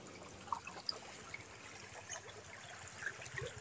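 Irrigation water flowing in a channel beside rice fields, a faint, steady trickle and gurgle with small splashes, heard from nearby in an outdoor setting.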